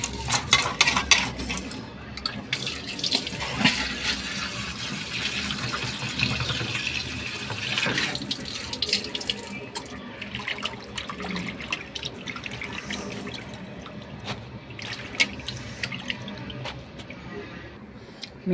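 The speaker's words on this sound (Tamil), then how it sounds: "இப்போ வந்து நல்லா தண்ணி போட்டு வாஷ் பண்ணிக்கலாம்." Fish being washed in water in a kitchen while preparing a fish curry, with a running tap and splashing and swishing water throughout, steady and close, with a few clinks.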